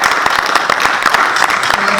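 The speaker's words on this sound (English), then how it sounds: "I want everybody to give yourselves a round of applause" Attendees at a city community meeting in Trenton give themselves a round of applause, a brisk burst of many hands clapping close and loud, filling the whole moment.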